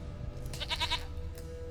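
A goat in The Witcher 3 lets out a single short, wavering bleat, moderately close and clear over a low steady background hum.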